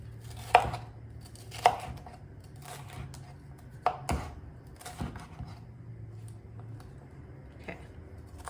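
Vegetables being chopped on a board for peanut and greens soup, a few separate knife knocks spread unevenly over the stretch, close but fairly soft, over a low steady hum, with no one talking.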